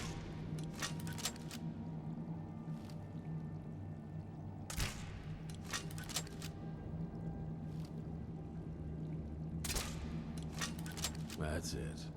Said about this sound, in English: Just take a few shots at those crates over there.